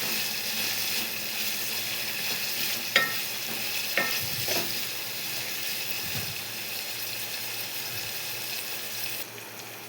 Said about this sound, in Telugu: నువ్వులు యాడ్ చేసుకొని ఒకసారి కలుపుకోవాలి.